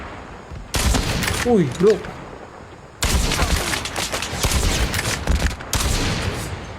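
Sniper rifle fire in a video game: sharp bursts of gunfire in clusters, loud and close, with a man's brief excited exclamations between the shots.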